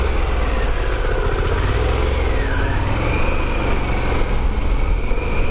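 Harley-Davidson Pan American motorcycle engine droning continuously while riding around 4,000 rpm, a loud steady rumble mixed with wind noise, with a slight pitch swell midway.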